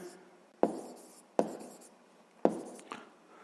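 A pen writes by hand during a sixth-grade maths exercise, giving three sharp taps followed by short scratching strokes, close and quiet with no talk.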